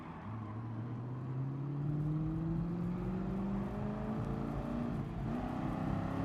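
A heavy race car's engine revs in GT Sport, its tone climbing steadily as it accelerates, with a loud, continuous drone and no talk over it.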